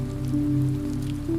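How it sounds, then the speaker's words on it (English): Rain patters steadily on a palm-thatch roof in a shaded tropical forest at dawn, a soft continuous wash with a low droning hum beneath, unbroken and even throughout. "Morning arrives through the sound of rain gentling to a whisper against palm thatch"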